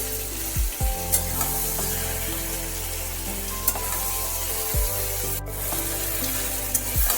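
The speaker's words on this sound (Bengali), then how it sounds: "হলুদ লবণ আর হলুদ দিয়ে একটু নাড়িয়ে নিতে হবে" Ol kora fries in oil with turmeric and salt, giving a constant hiss of sizzling, broken by occasional clinks and scrapes as it is stirred in the pan.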